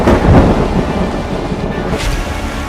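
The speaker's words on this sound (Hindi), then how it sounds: "मुंबई में एक बार फिर तेज मूसलाधार बारिश की शुरुआत हुई है और बारिश के साथ साथ तेज हवाएं चल रही हैं।" Heavy monsoon downpour in Mumbai with thunder and strong winds: a loud, steady roar of rain with a deep rumble near the start, continuing unbroken with no voices.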